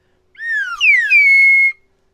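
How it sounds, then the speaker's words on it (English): A single slide whistle plays a quick swooping glide downward, then holds a steady high tone before cutting off, clear and alone against silence. "Should the slide whistle be a staple for the show, or should it just be for the 50th episode?"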